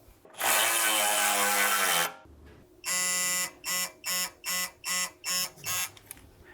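A power tool tightens the front control arm bolts on a B9 Audi A4 during a shock absorber replacement, giving one long buzzing run and then a string of short, evenly spaced pulses, loud and close.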